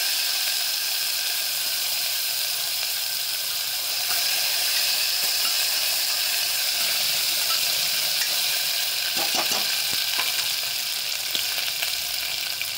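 Tomato frying in a pan for a dry potato and eggplant curry, a steady close sizzle and hiss of oil throughout, with a few soft scraping stirs near the end and no talking.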